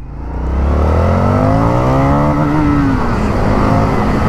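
A 2021 Indian FTR 1200 R Carbon motorcycle engine revs hard and close, its pitch climbing and holding in a loud, sustained roar for several seconds with no talking.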